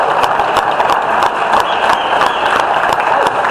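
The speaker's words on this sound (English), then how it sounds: "we will get a round of applause" A room of people at a Lehigh Valley political group's general meeting claps in a brief, steady round of applause for first-time attendees, dense and close throughout.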